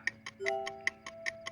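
Regular mechanical ticking in The Legend of Zelda: Breath of the Wild, about five crisp ticks per second over quiet game tones, with no talk.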